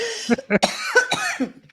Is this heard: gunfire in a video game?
no